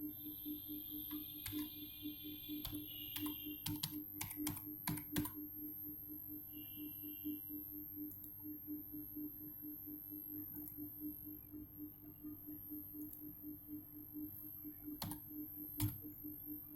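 Password typed on a computer keyboard, faint clusters of sharp key clicks in an irregular rhythm, heaviest early on and then sparse, over a low steady electronic hum and a high whine.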